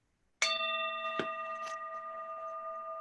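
A meditation bell at a Sangha retreat is struck once, giving a clear sudden ring that hums on in a long, slowly fading tone, with two faint taps partway through and no talking.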